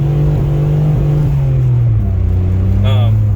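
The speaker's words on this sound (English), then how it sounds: "Now that's tire spin." A turbocharged Geo Metro with a slipping clutch under hard acceleration, the engine droning loudly and steadily with its pitch easing and rising again, heard from close by while someone talks.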